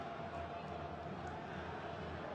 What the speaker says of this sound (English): The crowd making their presence felt, doing their job to help their team